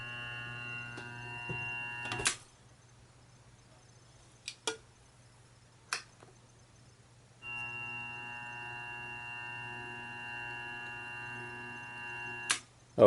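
Grizzly G0758 benchtop mill with its spindle turning slowly, a steady electric motor whine over a low mains hum, broken by a few sharp clicks and a pause.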